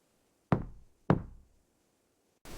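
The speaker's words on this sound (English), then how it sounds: "I knocked again." Two sharp knocks on a front door, spaced about half a second apart, close and fairly loud in an otherwise quiet space, followed by a brief burst of another sound.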